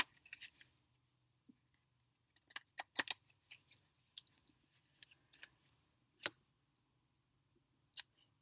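Tarot cards being shuffled by hand, a run of soft crisp riffles and flicks in clusters with brief pauses, quiet and close with no talking.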